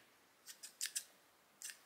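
A pair of scissors from a bag is handled up close, giving four quick crisp metallic snips in a loose cluster, a pause, then one more snip, against a quiet background.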